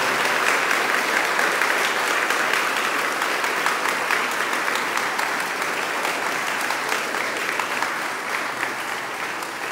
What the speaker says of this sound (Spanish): un aplauso para ustedes que durante este año han trabajado